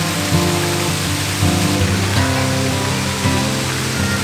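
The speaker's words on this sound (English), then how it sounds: "The waterfall is not even 30 seconds from the parking lot, it's right there." A waterfall at a Nova Scotia campground flows close by, just off a parking lot and running low after little rain, making a steady, loud rushing roar with no pauses.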